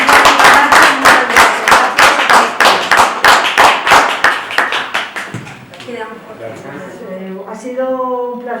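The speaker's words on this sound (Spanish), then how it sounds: "vamos a darles un fuertísimo aplauso" Sharp, rhythmic hand claps ring out at a book event honoring collaborators, a strong close run of claps for about five seconds before fading, followed by a speaking voice.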